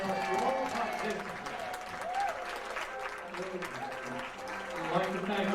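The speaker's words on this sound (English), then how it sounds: "Let's have a big round of applause for all participants." Audience applause fills the end of a community talent show at a Jewish center, a steady, dense wash of clapping with voices and tonal sounds mixed through it.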